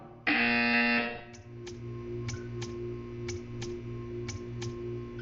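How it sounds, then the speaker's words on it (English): A harsh electronic buzzer in the video game Portal 2 blares for about a second, then a series of light, evenly spaced ticks follows over a steady low hum. "You will hear a buzzer. When you hear the buzzer, stare at the art."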